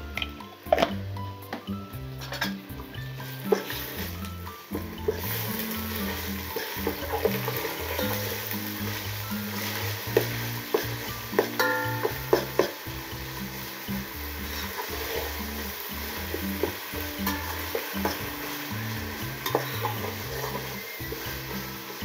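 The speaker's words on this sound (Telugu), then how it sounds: "ఇప్పుడు మనము 2 స్పూన్లు అల్లం వెల్లుల్లి పేస్ట్ వేసుకోవాలి." Ginger garlic paste sizzles in a pan with onions and whole spices for pulao, a continuous soft frying hiss with frequent scraping and squishy stirring noises throughout.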